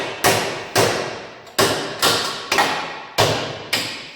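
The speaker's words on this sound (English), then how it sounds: "I'm just going to grab a punch and drive those out" A steel punch struck with a hammer to drive rivets out of a Ford Model A frame, eight loud ringing metallic blows at a steady, slightly uneven pace, each one decaying before the next.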